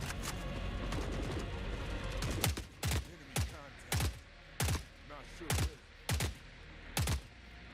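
Video game weapon fire: after a busy stretch of mixed sound, sharp shots ring out in a steady rhythm, roughly one every half second, each with a short echoing tail.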